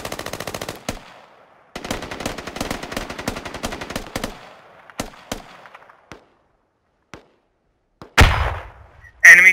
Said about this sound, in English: Enemy fire from the east.